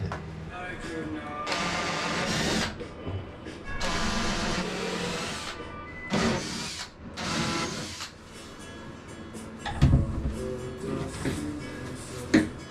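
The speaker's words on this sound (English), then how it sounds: "He's gonna drill the holes on the current engine bed." Several bursts of a power drill grinding holes into a sailboat's engine bed, each lasting a second or two, with short pauses and some talk in between.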